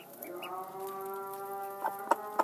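A hen sitting on a clutch of duck eggs gives a steady, close clucking drone with sharper clucks near the end; no speech.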